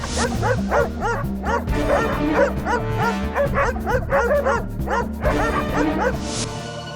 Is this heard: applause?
no